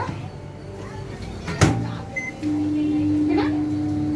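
A Samsung microwave oven cooking covered chicken: a sharp thud like its door shutting, a short beep, then a steady electric hum that runs continuously to the end.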